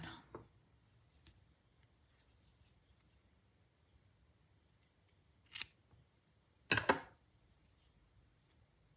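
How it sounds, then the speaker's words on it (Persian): Scissors snip through knitting yarn after a few knots are tied on a knitted doll bouquet, two short crisp cuts near the end of an otherwise quiet stretch with faint handling noise. "بعد نخم رو قیچی میکنم."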